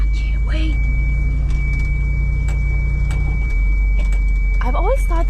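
A vehicle drives into a field being prepared for corn planting, its engine a steady, close low rumble that shifts in pitch partway through, with people talking over it.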